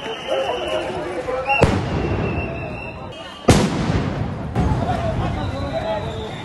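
Sound grenades going off during a police chase of protesting students in Dhanmondi, two sharp loud blasts a couple of seconds apart with rumbling echoes, over crowd babble and shouting.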